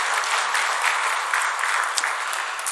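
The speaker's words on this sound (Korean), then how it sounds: "영광의 박수와 또 격려의 박수" A church congregation gives steady, sustained applause of encouragement, a dense even clapping from a full room with no pauses.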